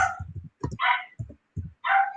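A dog barks in short bursts, a few sharp yaps and woofs separated by brief silences, fairly close and alone.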